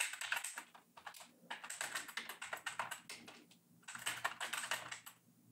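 Bursts of rapid keyboard typing as commands are entered on a computer terminal for a Java app on an AWS EC2 Linux 2 instance, steady clicking runs with brief pauses, close and moderately quiet, no talking.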